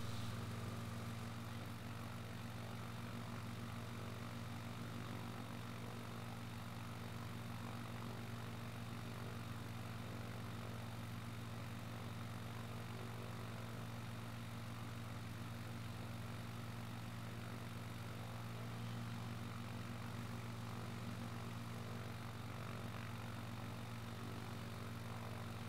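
A flight-simulator airplane engine over Paris gives a low, constant propeller drone with steady tonal hum, held evenly and fairly faintly for the whole stretch with no voices.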